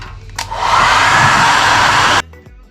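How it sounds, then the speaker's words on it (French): A hair dryer blowing into a rusty motorcycle fuel tank to dry it, a loud steady whooshing roar that switches on near the start and cuts off abruptly after about two seconds. "maintenant que j'ai bien séché avec le sèche-cheveux"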